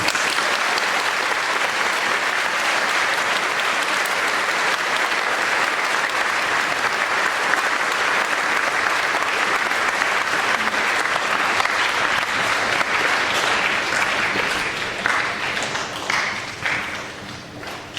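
A school assembly crowd applauds the Special Olympics basketball team and coaches, a long, dense, steady wash of many hands clapping in a large hall that thins out and fades toward the end.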